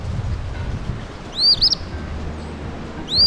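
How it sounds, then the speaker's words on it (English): An eastern phoebe sings its raspy two-part call twice, a bright burst partway through and another at the end, over quiet outdoor background hiss. "the eastern phoebe says its name"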